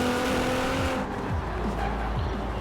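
A drag-tuned Nissan Fairlady Z 350Z engine in Forza Horizon 4 drones loudly, then drops in pitch as tires squeal briefly, with no talking.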